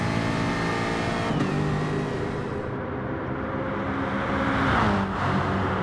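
Race cars completing the first lap of a circuit race and peeling into the pit lane, engines droning loud and steady with shifting pitch, one note dropping as a car slows near the end.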